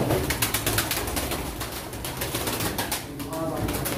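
Pigeons cooing at an outdoor pigeon auction in Turkey, a soft steady murmur of coos and bird sounds running through the whole stretch under an auctioneer's voice calling bids.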